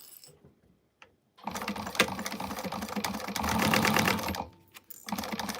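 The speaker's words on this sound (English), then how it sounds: "So we're going to top stitch the top of your slip pocket." A sewing machine top stitches the top of a vinyl slip pocket on a sling bag, running in a steady close whirring burst after a few quiet handling clicks, then stopping with light rattles.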